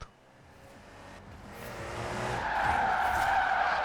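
A van drifts and skids in Forza Horizon 4, its tire squeal rising steadily to a loud, sustained screech while the engine runs beneath it.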